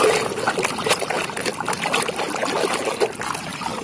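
Clean water poured over muddy toy cars, a continuous close splashing trickle with steady flow and slight surges, with no talking.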